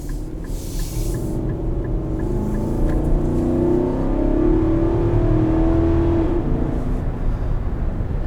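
Engine of a 2023 Infiniti QX80 luxury SUV, the same engine as the Armada, revving and accelerating: a loud, steady, deep drone that rises in pitch and holds, with no one talking.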